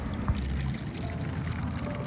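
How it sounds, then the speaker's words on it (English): A small solar fountain pump sprays a stream of water into a garden pond, giving a steady close pouring and splashing wash that runs continuously without pause. "You've got a pretty stream like that."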